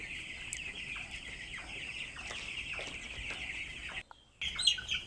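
Chickens clucking and squawking continuously at a poultry farm with around 650 birds awaiting Ranikhet vaccination; overlapping calls sound near and busy, briefly dropping off before resuming.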